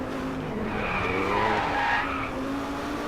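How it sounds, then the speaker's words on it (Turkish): Car tires skid and squeal through a drift on the final corner in the Driveclub racing game, a loud continuous screech over engine roar that swells midway, with no talk. "son virajda bir drift yapalım"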